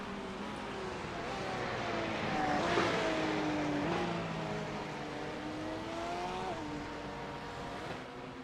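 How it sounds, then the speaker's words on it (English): GT3 race cars at the Misano circuit produce a sustained engine howl that rises and falls through gear changes as cars pass at mid distance, with no other sounds standing out. "through the final turn, Yannick Gunther will pull off the win in race 1."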